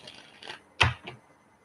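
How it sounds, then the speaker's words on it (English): Tarot cards being shuffled by hand, with a few soft riffling bursts and a sharper snap near the middle, close and alone without talk. "One more shuffle."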